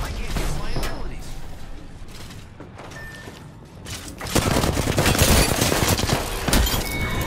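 Gunfire in Apex Legends as the player is spotted and shot at in Skulltown; sporadic shots give way to a loud, sustained burst of rapid fire and impacts, with the player's voice talking over parts of it.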